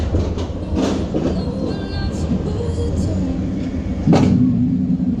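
Millennium rollercoaster at Fantasy Island setting off, a loud continuous rumble of the train rolling on track with clattering and wind noise, heard up close from on board, brief voices faintly underneath.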